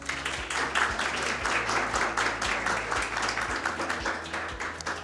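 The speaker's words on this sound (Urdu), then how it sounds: "آپ لوگ زوردار تالیاں بجائیے" Steady applause from a seminar audience, dense clapping that holds for several seconds with a low hum and faint murmur underneath.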